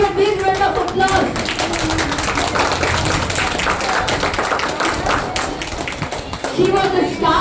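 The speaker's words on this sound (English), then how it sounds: "Please give a big round of applause." An audience at a personality development workshop breaks into sustained applause, a dense steady clatter of many hands clapping, with voices mixed in underneath.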